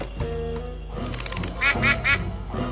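In the video game Monkey Island 4, a duck quacks three times in quick succession, loud and close, following a short game sound effect.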